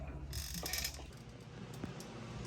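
A bolt is fitted into the pinch joint of a lowered Lincoln's suspension, making faint metallic clicks and light mechanical rattles over a few seconds.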